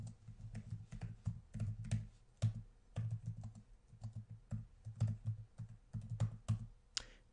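Steady typing on a computer keyboard in a networking lab, with rapid uneven clusters of crisp key clicks and a low hum behind them, close and fairly quiet, with no voices.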